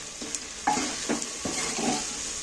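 Egg and jackfruit curry with melted tomato is stirred and sautéed in a pan, with a steady soft sizzle and a few scraping spoon strokes, near and moderate in level, no talk.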